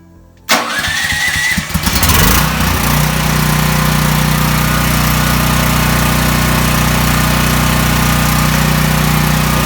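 A Champion 10,000-watt dual fuel generator cranks briefly, then catches and settles into a loud, steady engine drone with a constant hum that runs to the end.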